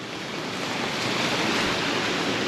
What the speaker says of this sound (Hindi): तेज़ बारिश हो रही है और इस वक्त बारिश तो मज़ीद बढ़ेगी।